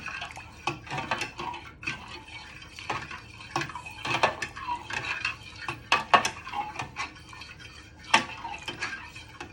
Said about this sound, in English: you want to give this a good stir in your measuring jug for 2 to 3 minutes so it all dissolves